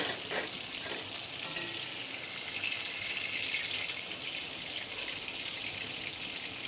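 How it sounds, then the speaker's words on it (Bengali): Pointed gourd (potol) pieces frying in a pan give a steady, bright sizzle throughout, with a few faint clicks near the start and no talking. "পটলটা এই যে এরকম লাল লাল করে একটু ভেজে নেবে।"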